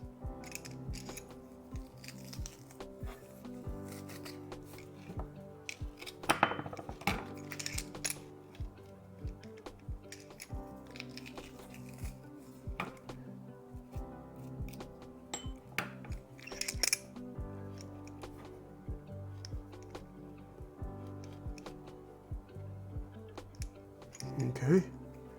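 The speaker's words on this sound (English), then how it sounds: "mince that garlic" A knife taps rapidly on a cutting board while mincing garlic, a long run of close, crisp chopping clicks beneath steady talk.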